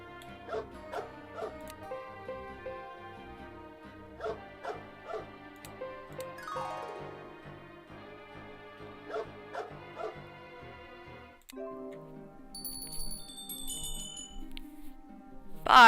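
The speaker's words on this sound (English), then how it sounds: "That's a nasty looking beast. Must be one of the estate dogs." An estate dog in a video game barks and yips repeatedly in short bursts over steady game music with chiming tones, with no talking.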